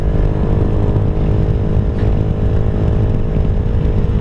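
A small Venom SS3 / KP Mini 150 motorcycle cruises on the interstate, its engine droning steadily and loudly with heavy wind rush throughout, no voices.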